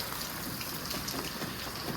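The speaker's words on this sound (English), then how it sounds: "you always got to be concerned that this is just a slight downpour and we still have a drainage issue here" A light downpour patters steadily onto a roof and surfaces, with a soft, continuous wash of rain and water running down toward a drain, evenly hissing throughout without voices.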